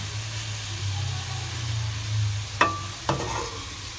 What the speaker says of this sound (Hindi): इधर हमारे करेले जो हैं वो फ्राई हो रहे हैं